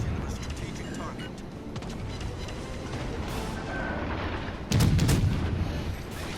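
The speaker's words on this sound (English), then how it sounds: "Concentrate fire on the enemy warship." Warship guns fire in World of Warships Legends: distant artillery reports and cracks roll under a busy battle ambience, with muffled voices in the background and a heavy, close salvo near the end.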